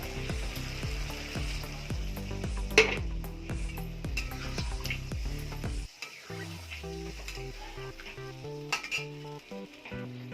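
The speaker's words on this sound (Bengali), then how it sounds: "এবার জল দিয়ে দেবো।" Vegetarian paneer curry sizzles in a pan with repeated stirring and metal clinks, then water goes in partway through and the loud frying sizzle gives way to a calmer, bubbling simmer with occasional clinks.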